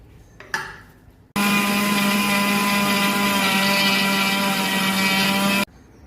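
An electric mixer grinder blending idli podi made from ration dal with a pinch of salt: a brief clatter, then a loud, steady high-pitched whir that runs about four seconds and stops abruptly.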